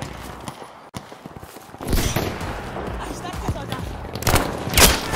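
Gunfire in the video game Battlefield V comes as dense overlapping shots and crackling bursts that build after a quieter start, with louder volleys near the end, while a voice talks underneath.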